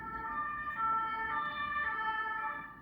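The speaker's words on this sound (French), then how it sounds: "Donc ça fait quand même 2 fois la sirène." An emergency vehicle siren wails steadily and loudly, its pitch wavering as it passes close by, with no talking.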